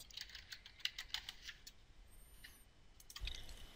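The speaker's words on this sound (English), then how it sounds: "Type your terms in the box and then click Search." Search terms are typed on a computer keyboard in a quick, quiet run of light clicking keystrokes, followed by a brief pause and a few more taps, with no voices.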